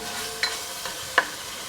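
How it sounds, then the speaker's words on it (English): Diced bacon and onion fry in a pan with a steady low sizzle, broken by two or three brief scrapes of a utensil stirring them. "So we're going to fry off the bacon"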